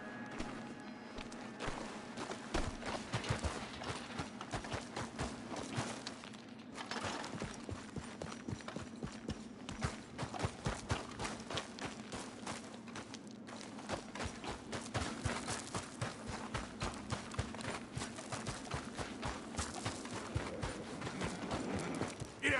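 Horse hooves clip-clopping steadily on the ground in Red Dead Redemption 2, a continuous quick rhythm of hoof strikes with game ambience, moderately loud throughout.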